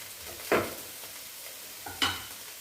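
Bitter gourd frying with coconut and home-made pepper powder in a pan: two brief spatula stirs, about a second and a half apart, scrape over a quiet, steady sizzle.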